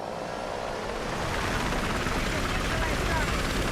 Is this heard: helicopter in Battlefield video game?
yes